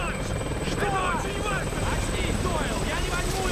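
A helicopter takes off in the film 28 Weeks Later, its rotor roar loud and constant under overlapping voices.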